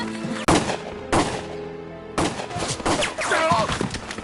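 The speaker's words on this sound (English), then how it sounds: "Gunfire!" Video game battle gunfire crashes in three heavy bursts of shots, loud and close, with sustained rumbling echo filling the gaps between volleys.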